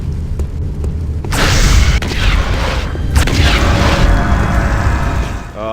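A fire magic spell in the fantasy video game Dark Messiah bursts into a loud whooshing roar of flames, followed by a second fiery surge and a sustained crackling burn.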